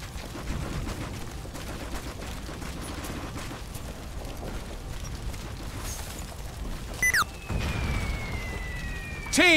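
Gunfire in the combat game Operation Flashpoint: Red River, with dense overlapping rifle shots and rattling bursts over a busy battlefield din, later joined by sharp whistling, descending effects.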